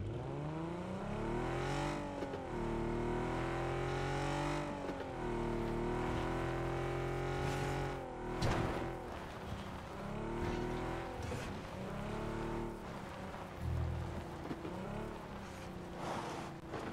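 A vehicle driving in the video game PUBG, its engine droning and revving up and down in long sweeping pitch changes, close and continuous, with a few bumps and knocks along the way.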